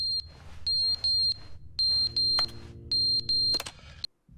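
In The Stanley Parable, high-pitched alarm beeps repeat in short bursts over a low hum, mixed with a few clicks and a brief tone before it stops abruptly.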